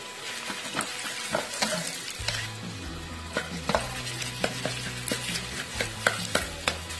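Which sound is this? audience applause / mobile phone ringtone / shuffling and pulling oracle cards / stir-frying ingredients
stir-frying ingredients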